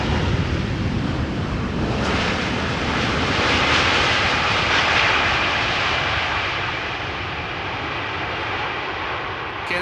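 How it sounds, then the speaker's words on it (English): Boeing 787-9 Dreamliner arriving at Amsterdam Schiphol Airport after a flight from Toronto, its jet engines roaring loud and steady throughout, a broad sustained rumble with wind buffeting the microphone. "This is a Dreamliner 7879 arriving"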